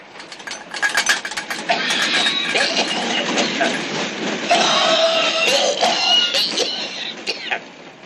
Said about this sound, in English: This train isn't supposed to go more than 35 miles per hour.